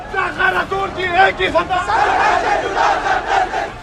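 A crowd chanting the slogan 'sar tan se juda', with a man inciting them; loud rhythmic massed shouting and voices in a dense, continuous babble of people.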